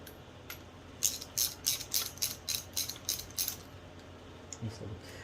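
A ratchet re-chases primed bolt holes on a Farmall Super A tractor, giving about ten quick metallic clicking bursts in a regular rhythm, close by and fairly quiet, followed by a softer clink.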